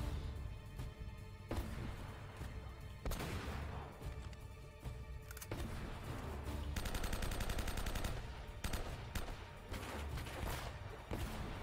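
Gunfire in the video game Uncharted: Drake's Fortune, with loud, dense bursts of shots and automatic fire that keep going through a busy battle mix.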